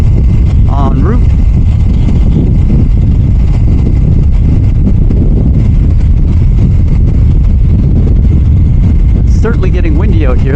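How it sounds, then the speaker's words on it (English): Wind roars and buffets constantly on a motorcycle ride toward Kingston, Ontario, a loud broadband rush that swamps everything. A voice breaks through faintly near the start and near the end. "Certainly getting windy out here, that's for sure."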